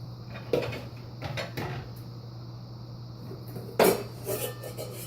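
Dishes and cookware clatter in a kitchen during a search for a bowl while making chili: a few sharp knocks and rattles in separate bursts, the loudest near the end, over a steady low hum with no talking.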